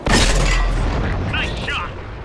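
A ŠKODA T25 autoloader tank fires its cannon in World of Tanks on Xbox console. A single loud, close boom hits at the start and decays into a rumbling tail, with a voice speaking over the fading echo.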